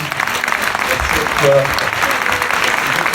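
An audience at a Toulouse congress applauds with loud, sustained clapping from many hands, while someone briefly speaks over it.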